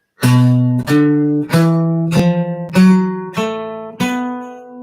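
A clean guitar plays a slow run of single notes, about seven plucked tones stepping through a pentatonic blues scale, each ringing briefly before the next.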